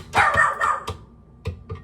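A dog barks several times in quick, uneven bursts nearby, with a short pause before two final barks.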